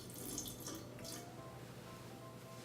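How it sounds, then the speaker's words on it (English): Water trickles and splashes steadily into a bowl of dog birthday cake batter with orange, close up and alone, fading to a light trickle. "we are going to add a little bit of water, just so it becomes a little bit more liquefied"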